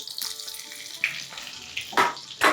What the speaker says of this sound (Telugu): వేసి పిండిని బాగా వేయించుకోవాలి పచ్చివాసన పోయేంత వరకు పిండిని వేగనివ్వాలి